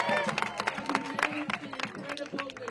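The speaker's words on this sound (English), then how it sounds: "Big round of applause for Bob, who made enough buttons for almost everybody here." Scattered clapping and cheering from a crowd at a protest march, uneven and fairly faint, mixed with crowd murmur.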